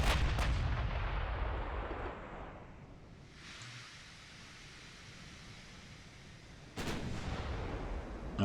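Naval gunfire in the warship game Ultimate Admiral: Dreadnoughts, with heavy booming salvos at the start and again near the end and a long rumbling decay between them, loud and unaccompanied by talk.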